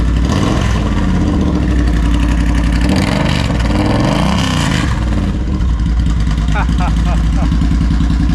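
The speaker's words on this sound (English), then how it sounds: "What an engine, huh?" A Triumph Speedmaster 1200 motorcycle engine starts and runs steadily and loudly up close, idling with a deep rumble and occasional small rises in revs.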